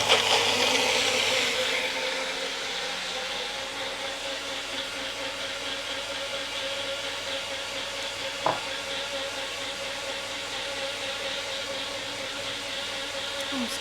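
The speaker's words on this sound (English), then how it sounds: "I'm about to turn a blender on." A kitchen blender runs continuously while a ginger shot is being made, a steady close-up whir with a constant hum and one brief click partway through.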